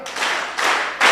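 An audience claps at a memorial lecture, repeating its applause on request in three broad bursts of dense, sustained clapping, with the last burst loudest.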